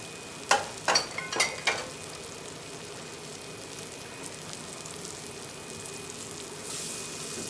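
Olive oil and roux sizzling in a pan, a soft steady hiss after a few sharp clinks of a utensil at the start, quiet and close, with no voices.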